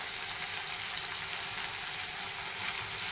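Ground chili-coconut paste with a pinch of turmeric sautéing in a pan for gawar bhaji, giving a steady, close, even sizzle with no talk throughout.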